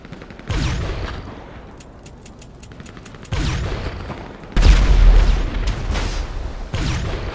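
Heavy guns fire in GTA 5 roleplay in loud, close volleys: sharp bursts of rapid shots broken by brief lulls, then several more blasts in quick succession.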